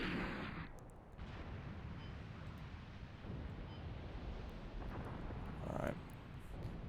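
Artillery rounds firing in a combined-arms war video game set in Iran, heard as deep distant booms and rumble under steady wind-like noise, with a softer crackle later in the clip.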